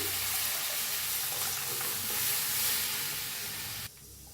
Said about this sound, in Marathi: ताक करून घेतलं होतं ते वतून घेऊया ह्याच्यात